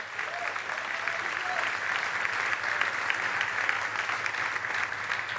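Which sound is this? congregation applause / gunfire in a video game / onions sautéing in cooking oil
congregation applause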